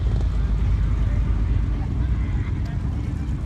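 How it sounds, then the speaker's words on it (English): Wind gusts across an outdoor drag strip, a dense broadband roar buffeting the microphone with heavy low rumble, steady and loud throughout with no clear breaks. "Yes, Todd, it is a little windy here."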